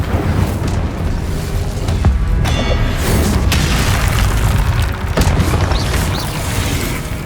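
Incendio fire spell cast in Hogwarts Legacy: loud, dense booming and crackling bursts of magical fire over a rumbling game soundtrack, continuous with a few brief sharper hits.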